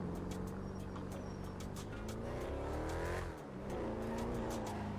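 A car engine revving in the GTA FiveM video game, a loud sustained drone with rising and falling pitch and a brief dip midway, joined by tire squeal and skidding.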